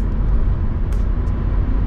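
An older Mercedes-Benz 560 SEC coupe at speed, a steady loud broadband engine and road roar heard from inside the cabin, continuous and without any talk.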